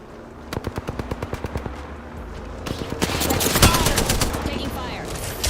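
Machine gun fire in a video game rattles out as a rapid burst of evenly spaced shots, followed by louder, denser gunfire and explosions that build toward the end, close and forceful.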